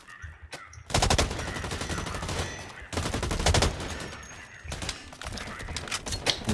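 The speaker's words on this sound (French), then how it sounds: "Alors, qu'est-ce que c'est la M4X? C'est comme une mitraillette." Rapid bursts of M4X submachine gun fire in the shooter game Blacklight, loud and dense, with a short gap before sustained automatic volleys that pause briefly and resume, all without speech.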